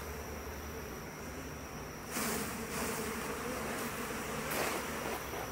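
Honey bees hum in a low, even drone around an open hive, and the buzzing swells sharply into a louder, denser swarm sound as the frame is shaken, staying up through the rest.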